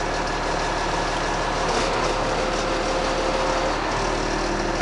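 A Peterbilt 320 hi-rail truck with Mitchell rail gear runs steadily as the front gear lowers, a loud, constant engine and hydraulic drone close by with no talking.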